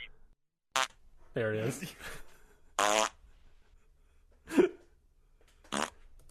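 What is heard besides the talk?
fart sound effect played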